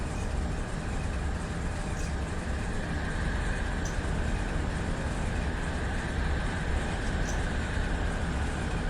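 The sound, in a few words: freight train passing in Run 8 train simulator video game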